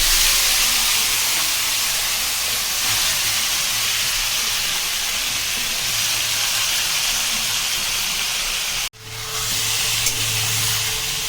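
Onion-and-spice marinated chicken sizzles in hot oil over a high flame, a loud, continuous hiss that runs steadily, cuts out abruptly near the end, then resumes more quietly with a faint low hum.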